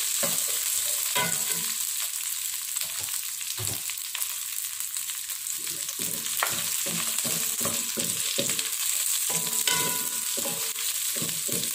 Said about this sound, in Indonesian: Jadi kita tumis sebentar.